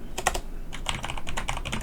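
A computer keyboard typing in Hancom Office NEO makes quick, close bursts of crisp keystrokes in an uneven rhythm with short pauses between them.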